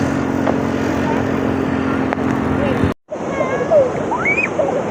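Sea waves surge in at a seaside shore, a broad steady roar of surf close by that cuts off abruptly, then returns with splashing and distant voices and cries mixed over it.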